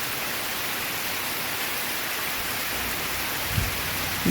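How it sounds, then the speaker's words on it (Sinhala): Steady rain falls outside a house on a wet day, a continuous even hiss of drops on surfaces with a couple of faint low thumps near the end. "අද අපේ ගෙවල් පැත්තට උදේ ඉඳන් වහින දවසක්"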